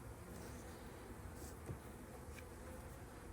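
Honeybees working over a hive frame holding fresh nectar give a soft, steady hum, fairly faint and continuous with no talking.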